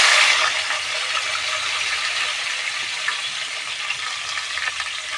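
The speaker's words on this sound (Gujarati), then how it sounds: "આપણે નાખીશું જીરું ને રાઈ, આપણે નાખીશું ટામેટાં," Cumin, mustard seeds and tomatoes sizzle in hot oil for mag pulav, giving a strong burst of frying hiss at the start that settles into a steady, close crackle with small pops throughout.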